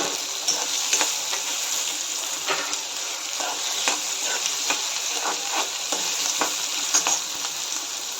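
Chopped onions fry and sizzle in a pan for Maharashtrian-style upma while a spoon stirs them, giving a steady bright hiss broken by soft scraping clicks, close up, with no talking.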